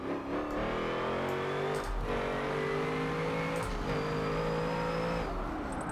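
A powerful car engine in Forza Motorsport 7, heard from a drifting session, revs and shifts through gears, its pitch climbing and dropping repeatedly, loud and close with no talking.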